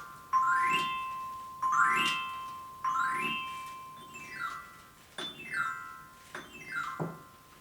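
A chromatic carillon plays a diatonic glissando, with four or five bright cascading runs of bell tones, each struck in a quick sweep and left to ring and decay before the next, heard alone.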